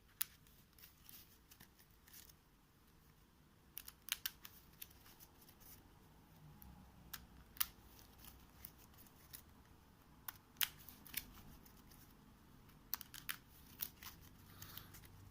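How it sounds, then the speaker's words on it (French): Marvel Champions playing cards being reshuffled in a quiet room during a solo game: soft, fairly faint riffling and sliding of cards with scattered small snaps and clicks, heard alone without talk. "je remélange mon deck pour piocher 2 cartes supplémentaires"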